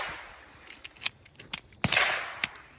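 Several sharp, snappy reports from a Smith & Wesson CSX pistol, spaced irregularly over a few seconds at a range, with a louder, longer burst near the end.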